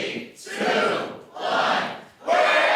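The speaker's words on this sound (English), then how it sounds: "you guys count it down for your big debt-free scream" A live audience counts down together in a few loud, drawn-out group shouts, each one swelling and then breaking off before the next.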